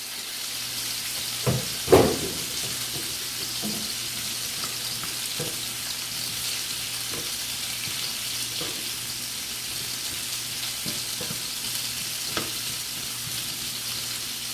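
Pork chops fry in a skillet with a constant, moderate sizzle and crackle, punctuated by a few sharp clinks and taps early on, with no voices.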